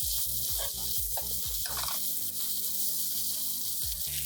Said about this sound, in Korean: 한 번 더 전체적으로 오일이 코팅될 정도로만 볶아주시면 돼요.